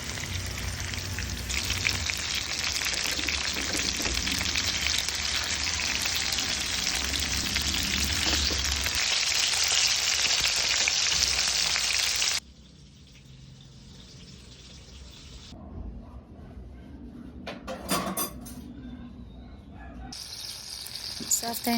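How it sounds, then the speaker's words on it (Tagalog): Yellowfin tuna seasoned with spices frying in a pan, a loud, dense sizzle for about twelve seconds that then drops to a quieter crackle with a few clattering bursts. "So i-fry lang natin ang ating fish, seasoned with spices."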